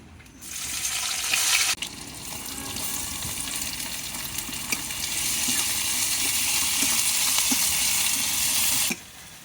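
Garlic and onion hit a hot wok, starting a bright, steady sizzle that runs loud and close for several seconds, with a brief dip and small crackles before it stops abruptly.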